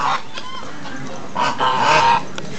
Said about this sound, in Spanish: ¿Habían visto una gallina de pantalones?